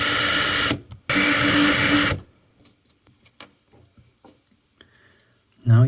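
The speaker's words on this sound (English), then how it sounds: "So I have one more rivet here that I'm gonna drill out" A drill bores out a rivet on a Victorinox Swiss Army knife in two loud bursts, a short one and then a longer steady one, followed by quiet small clicks and handling noises and a brief knock at the end.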